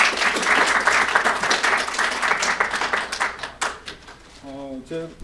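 A conference audience at a Korean ESG society forum applauds loudly and steadily for several seconds, the clapping thinning out near the end as a voice begins speaking over it.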